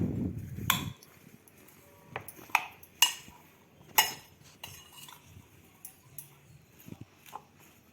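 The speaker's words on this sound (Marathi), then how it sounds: "आता हे छान मिक्स करून घ्यायचंय आपल्याला" A spoon clinks and scrapes against a bowl while bread pizza ingredients are mixed, a few sharp metallic taps spaced irregularly over a quiet background after a brief low murmur at the start.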